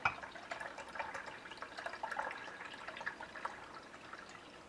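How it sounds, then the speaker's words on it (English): Turkey broth poured from beneath a layer of fat, a close, steady splashing and trickling of liquid with small drips throughout, no voices. "now I'm going to pour out the broth from underneath the fat."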